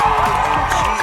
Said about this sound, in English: I can't even hear you over the clapping. Crowd goes wild.